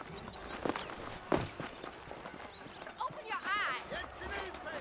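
Horse hooves from saddled horses clopping on ground in the video game Red Dead Redemption, in an uneven walking rhythm, with other movement sounds and brief voices mixed in.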